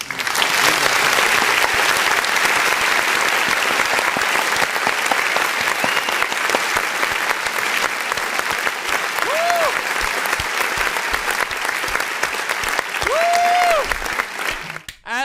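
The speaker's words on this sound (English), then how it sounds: "This needs a round of applause. Let's go ahead and clap" A long, dense round of clapping from many hands, steady and loud throughout, with a couple of faint whistles near the end before it cuts off abruptly.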